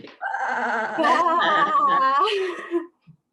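Several people imitate sheep together, a loud chorus of voiced "baa" bleats held for about two and a half seconds, followed by a short laugh.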